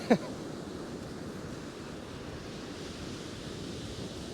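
Steady wind on a Northumberland beach while fishing buffets the microphone with a low, constant rushing roar, after a single brief knock at the start.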